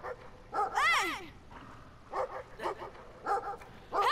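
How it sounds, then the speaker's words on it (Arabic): A dog in the game Brothers: A Tale of Two Sons barks and yips several times in short bursts, fairly close, with a spoken voice mixed in between. "انبح يا كلب"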